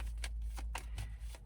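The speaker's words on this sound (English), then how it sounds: "I was shuffling the cards" Tarot cards are shuffled close up, giving a steady papery rustle with rhythmic swishing riffles repeating about every fifth of a second, and no voices are heard.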